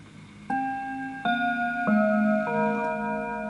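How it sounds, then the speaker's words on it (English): An antique Enfield mantel clock chimes four ringing Westminster tones in a descending-then-rising sequence, each note sustaining and overlapping the next, clear and close. "to make sure that the clock is actually chiming properly, let's have a listen to it"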